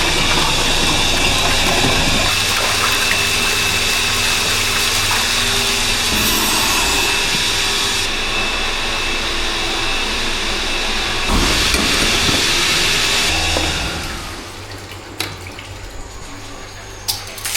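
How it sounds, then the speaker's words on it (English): A farm water pump runs continuously with a loud rushing, droning hum and steady flow noise, shifting in tone a few times before quieting down near the end. "My pump is pumping away down here."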